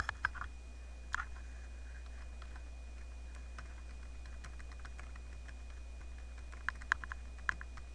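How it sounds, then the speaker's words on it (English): Scattered keystrokes clatter on a computer keyboard, faint and set back from the microphone, with irregular light clicks over a low steady hum and no talking. "I'm going to type in my school name."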